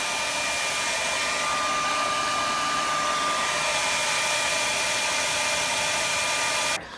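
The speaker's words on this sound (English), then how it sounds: "I might even insert this little clip of my genius way of propping up a blow dryer." Blow dryer propped up to dry shoes in a hotel room, a steady close whir with a thin high whine running unchanged for nearly seven seconds before it switches off abruptly at the end.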